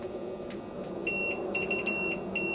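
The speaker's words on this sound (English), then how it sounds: "you'll hear a beep." A multimeter on continuity mode gives steady electronic beeps while testing a motorcycle relay, a high sustained tone starting about a second in and pulsing on and off over a low background hum.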